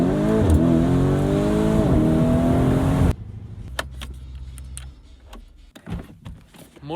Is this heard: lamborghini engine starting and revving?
yes